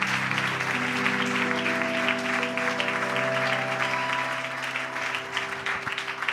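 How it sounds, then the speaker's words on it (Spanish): A church congregation applauds the King, a sustained burst of clapping with sustained musical tones from an instrument held underneath, fading a little toward the end. "Denle un aplauso al Rey."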